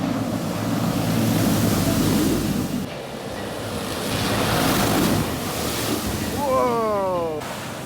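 Floodwater draining off a flooded main road in Northern Ireland: a continuous loud rushing and gurgling of water, close by, swelling and easing in waves, with brief voice-like tones near the end.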